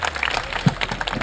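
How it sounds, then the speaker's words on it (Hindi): Audience applause at a Pakistani political gathering with Pakistan Army references, a steady dense wash of clapping sustained across the short moment, fairly loud and continuous with one brief louder thump. "एक दफ़ा ज़ोरदार तालियाँ बजनी चाहिए"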